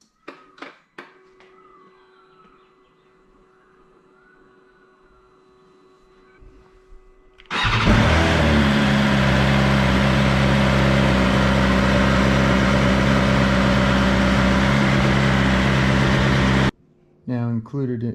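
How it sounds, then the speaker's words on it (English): A BMW S1000XR motorcycle engine starts abruptly after a quiet stretch and settles into a loud, steady idle with a low rumble, running for about nine seconds before cutting off briefly and catching again. "Let's give you a look with the motorcycle on."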